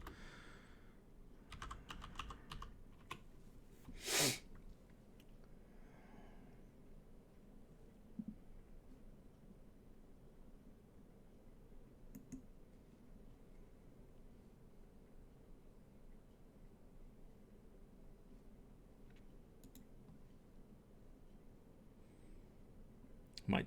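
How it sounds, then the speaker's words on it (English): Computer keyboard typing: a short flurry of keystrokes and a sharp click near the start, then only sparse, faint taps over a quiet background. "I can't spell when I'm typing over everything."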